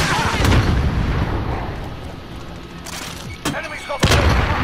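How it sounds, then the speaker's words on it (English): Grenade blast and gunfire in Call of Duty: Modern Warfare team deathmatch, a dense rumble of battle noise punctuated by a few sharp, loud bangs near the end. "Damn, that grenade."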